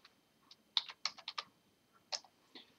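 Quick bursts of typing on a computer keyboard: a few isolated key clicks, then a fast cluster of keystrokes and a couple more taps near the end, close and fairly quiet in an otherwise silent room.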